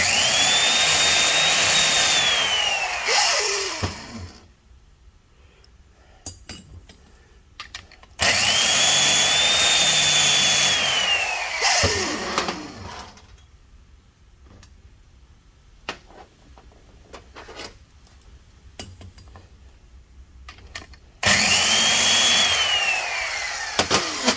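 A seat grinder cuts valve seats on a Polaris 400 engine, three loud steady whining bursts of several seconds each, each winding down in pitch and separated by near silence.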